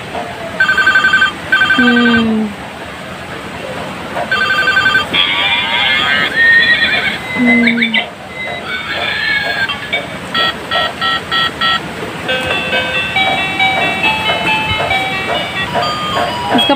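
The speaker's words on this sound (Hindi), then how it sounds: "ये बच्चे का जैसे मोबाइल फ़ोन है" A children's toy mobile phone from a kids' toy wholesale shop in Kolkata plays loud electronic ringtones and tinny melodies in continuous bursts, with chiming synthetic tones and whinny-like sound effects, up close over faint shop background noise.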